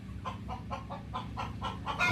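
Gavran country chickens on a poultry farm cluck in a quick, regular series of short calls, close by and moderately loud over a low background hum.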